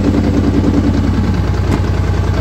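A Honda NT700 motorcycle engine idles steadily once warmed up to temperature, with a loud, close, even low throb and no talk over it.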